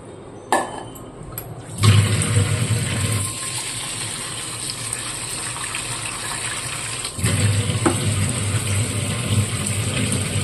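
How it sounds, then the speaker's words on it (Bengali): Red flattened rice (chira) is rinsed under running water in a home kitchen. Water gushes and splashes close by in two strong bursts, with a steady flow continuing between them and no talking. "লাল লাল চিড়ে, পরিষ্কার করে ধুয়ে।"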